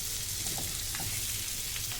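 Chopped raw banana pieces fry in a pan, giving a continuous close sizzle with light bubbling crackle throughout.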